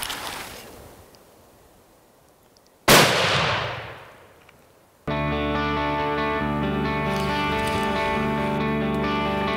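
A single loud rifle shot during an elk hunt on a New Mexico ridge cracks out and rolls away in a long echoing tail, followed later by a steady droning hum.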